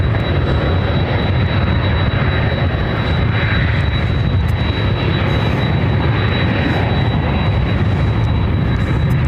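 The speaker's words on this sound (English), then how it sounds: "Second UPS over there heading to Louisville, Kentucky. UPS flight 919. It's a 4-year-old 767 300 ER." A UPS Boeing 767-300ER jet at an airport produces a loud, steady, close engine roar with a thin whine on top. The sound holds constant throughout with no voices.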